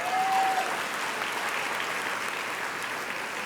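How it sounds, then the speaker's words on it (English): An audience at a housing and economic development conference claps steadily in a sustained round of applause that fades slightly toward the end. "Show me by a round of applause."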